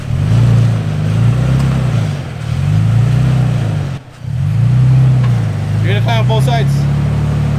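A car engine drones loudly and close by as the vehicle is driven slowly during a recovery at John Bull, rising and falling in long repeated surges with one brief dip. A man calls out directions over the engine.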